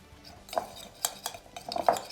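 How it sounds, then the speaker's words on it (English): A spoon stirs garlic, lime zest and lemon zest into olive oil in a bowl, with a handful of close, distinct clinks and scrapes spaced irregularly. "Stir it all in, this allows it to kind of impart its flavour into the oil"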